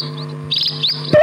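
A sparrow chirps a few quick, bright tweets up close and loud, short rising calls over a faint low hum, ending in a sharp burst.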